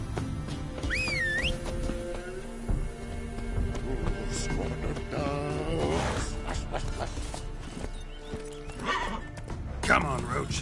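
Roach the horse galloping with quick rhythmic hoofbeats and neighing loudly in The Witcher 3: Wild Hunt, over background music with a short whistle early on.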